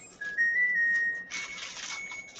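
Birds chirp outside a window in a short, faint burst of high, thin, whistle-like notes, first a sustained tone, then a denser flutter of chirps, with no voices present.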